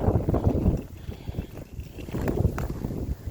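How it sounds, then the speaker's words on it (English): Strong wind gusts outdoors at a farmyard with rabbits, chickens and ducks, a loud, buffeting rumble that batters the microphone continuously with uneven surges and no talk over it. "It's just so windy."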